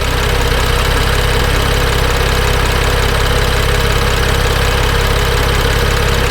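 Car engine idling steadily right after a Liqui Moly Molygen oil change, a loud, close, continuous mechanical hum and rattle with even, unbroken rhythm and no talking.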